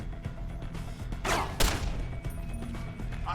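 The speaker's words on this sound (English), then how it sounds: "So he's got a shotgun." Enemy shotgun fire in Deus Ex: Human Revolution, one or two sharp loud blasts in the middle of a steady background of game ambience and mechanical noise.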